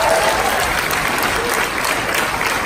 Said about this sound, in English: give a round of applause for all the comedians you see tonight